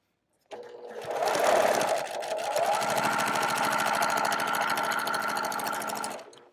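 A sewing machine stitches quilt strips on a spider web quilt, running in one long fast burst after a short pause at the start, loud and close, with no talk over it.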